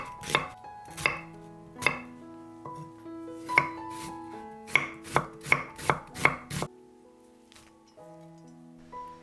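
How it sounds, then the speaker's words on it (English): A knife minces an onion on a cutting board, with a series of crisp, close chopping strikes, irregular at first and then quick and regular before trailing off. "Mince an onion."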